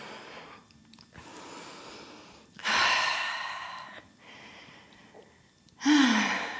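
A deep yoga breath taken in a seated twist: two or three long, airy inhales and exhales with breathy rushes, close and clear, with no speech over them.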